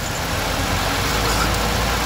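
A Lexus IS250 with the 4GR engine and a blown head gasket runs steadily at idle, a loud, close, even mechanical rumble with no break.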